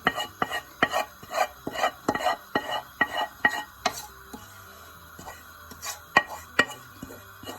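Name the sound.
chicken gently mixed with masala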